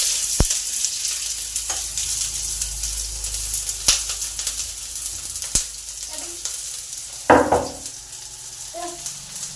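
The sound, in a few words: onions frying and sizzling in a pan for chow mein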